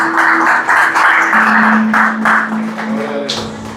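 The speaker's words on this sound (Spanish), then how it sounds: "Dale un fuerte aplauso al Señor." A church congregation claps for the Lord during a Spanish-language service, loud, close rhythmic clapping in regular beats with a sustained musical tone beneath, then fading near the end.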